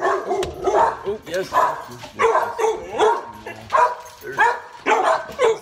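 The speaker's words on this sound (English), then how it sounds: "Here, the dogs." Dogs barking repeatedly inside a house, loud and close in bursts of woofs and yips, with a person speaking among them.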